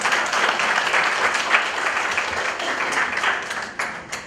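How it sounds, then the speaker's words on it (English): Audience applause at the Life Positive Expo 2013 in Mumbai, a dense steady wash of many hands clapping that holds evenly for several seconds before thinning slightly at the end. "A round of applause for this line."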